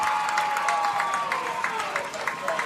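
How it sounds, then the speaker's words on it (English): Baseball fans clap and cheer at a 2022 NCAA Tournament game between Tampa and Nova Southeastern, with steady distant clapping in the stands over a murmuring crowd as a voice talks. "We even see some Nova fans clapping and cheering."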